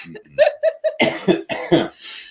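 A quick burst of several sharp coughs in a row, close and fairly loud, preceded by a few short throaty sounds.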